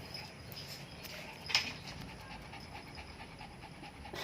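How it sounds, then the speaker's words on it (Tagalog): A dog pants steadily and fairly faintly over a dull background rumble, with one brief sharper noise partway through; no talking. "Ba't hinihingal?"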